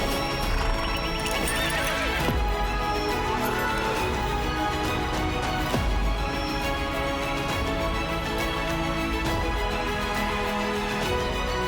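A horse neighs and whinnies with clip-clopping hooves, set against dense, continuous background sound for the full length, loud and busy with no speech.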